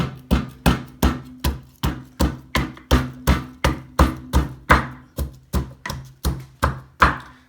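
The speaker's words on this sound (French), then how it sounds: "donc on a pilé l'ail" Garlic pounded in a small mortar with a pestle, a steady run of about two dozen loud, close, evenly spaced thuds.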